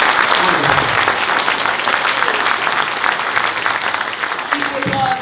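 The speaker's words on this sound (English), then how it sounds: "Keep the applause going for the baseball Mensch." Audience at a post-screening discussion of the film Baseball Mensch applauds, a dense, loud and sustained wash of clapping that fills the room, with voices faintly audible underneath.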